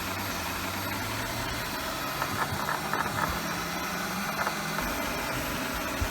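An OKP Life K2 robot vacuum runs around obstacles on the floor, giving a faint, steady motor hum with a few light rattles and bumps.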